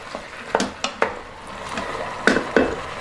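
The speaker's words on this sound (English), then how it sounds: "The zucchinis, les courgettes, hop. les courgettes in the Instant Pot." Chopped zucchini for ratatouille is tipped into an Instant Pot, making a quick run of soft clunks, taps and scrapes against the metal pot, close and without talk.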